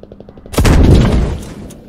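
A tank blowing up under fire in the game Squad: faint rapid machine-gun taps, then a heavy, booming explosion that rumbles and decays over about a second.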